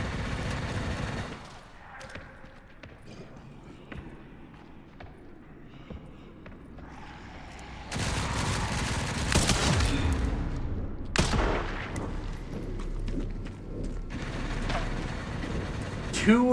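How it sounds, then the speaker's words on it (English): Sniper rifle fire in the video game Resident Evil 9, with sharp broadband shots standing out against a busy game soundscape of mechanical clatter, ambient rumble and occasional talk. "Two headshots from a sniper rifle."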